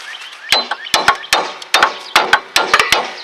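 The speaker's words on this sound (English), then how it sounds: "take a hammer and just kind of hit that a little bit" A hammer strikes a rusty tie rod end on a Dodge Neon to break it loose, giving roughly a dozen sharp metallic whacks in uneven bursts, close and loud, with no talking.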